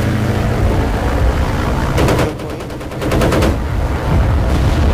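Loud, continuous gunfire and machine-gun bursts in the Battlefield 1943 video game, over a dense rumble of battle and engine noise.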